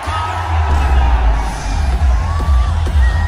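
A live studio audience clapping and shouting jeers, a loud dense roar of crowd noise with whoops and scattered claps filling the whole stretch.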